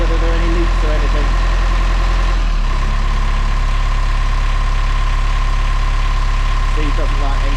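A narrowboat diesel engine, just serviced, idles steadily and loud after a hesitant start, with a continuous low rumble and a brief dip in its note near the start; voices talk faintly beneath it.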